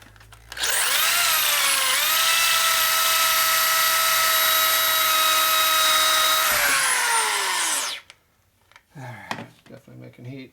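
Power drill spinning against a bolt on a custom Harley chopper to heat and melt its Loctite, a loud, sustained high-pitched whine lasting about seven seconds that winds down abruptly, followed by brief clatter and handling noise.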